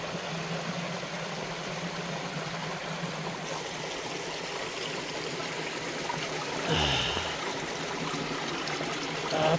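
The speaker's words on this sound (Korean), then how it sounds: "위로는 얼음이 흐르고 아래로는 물이 흐르고" A mountain stream flows under ice in a snowy valley, a steady broad rushing of water with a brief rumble partway through, continuous and fairly close.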